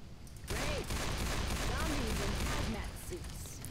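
Pistol gunfire in the zombie shooter Left 4 Dead 2 crackles amid dense game noise, quick repeated shots over a busy, chaotic backdrop with faint voices mixed in.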